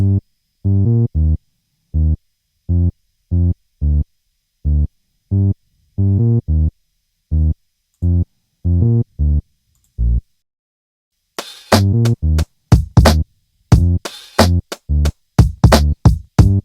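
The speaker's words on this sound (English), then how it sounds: "It is a synth bass," A punchy synth bass plays a bouncy, staccato pattern of short notes alone, then brighter, busier hits join in near the end.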